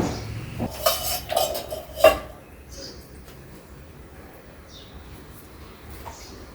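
Puffed cooked kulcha being set onto a plate, a few sharp clinks and clatters of utensil against plate clustered in the first two seconds, then near quiet with faint room noise and brief soft ticks.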